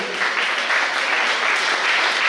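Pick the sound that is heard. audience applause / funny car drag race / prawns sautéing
audience applause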